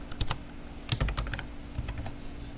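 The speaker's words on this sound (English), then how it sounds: "So all I'm going to do is type inside the text boxes, put the dates" Typing on a computer keyboard while filling in text boxes of a Publisher 2010 flyer template: irregular bursts of close, crisp key clicks with brief pauses between clusters, no voices.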